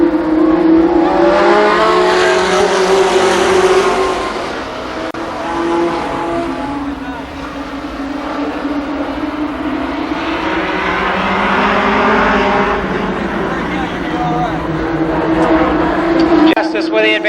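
Race cars roar around the track in an eight-lap limited sportsman heat race at Columbus Motor Speedway, engines loud and swelling as the pack passes, with a track announcer talking over the din throughout.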